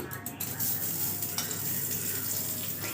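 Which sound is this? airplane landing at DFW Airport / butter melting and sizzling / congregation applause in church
butter melting and sizzling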